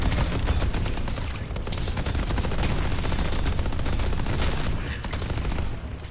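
Rapid sustained turret gunfire in a video game, a dense continuous rattle of automatic shots, loud and close, running throughout with a faint voice briefly underneath.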